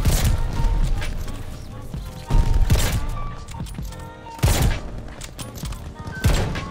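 Sniper rifle shots in a video game, several sharp loud cracks spaced a couple of seconds apart with mechanical bolt and reload clatter between them, over busy game background noise.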